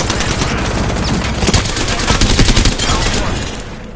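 Dense automatic gunfire fills an Apex Legends firefight, loud and continuous rapid bursts with no pause and no talk over them.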